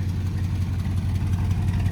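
A 1977 Chevy Camaro engine idles steadily, a low, even rumble that runs close and constant for the whole stretch with no revving, knocks or ticks.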